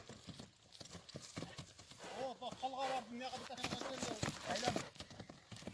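Horse being walked around for sale, hooves clip-clopping in an irregular close rhythm while the animal whinnies partway through, with people talking in the background.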